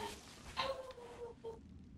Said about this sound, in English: Hey, are you chickens?